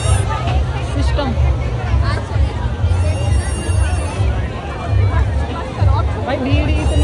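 A dense crowd fills a fair at Kavi Nagar in Ghaziabad with loud, continuous babble of many overlapping voices, some chatter close by and a low steady rumble beneath.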